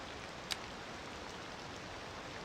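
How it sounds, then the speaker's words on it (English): Steady, even hiss of rain falling in a city-building game, quiet and continuous, with a single brief faint click partway through and no other sounds standing out. "I don't know how loud this rain is"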